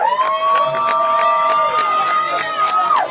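A crowd at an election night party cheers, whoops and claps loudly and continuously, with a high shout carrying over the steady roar of applause.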